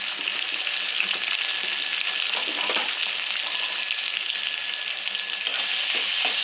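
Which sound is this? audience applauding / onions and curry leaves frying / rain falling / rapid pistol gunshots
onions and curry leaves frying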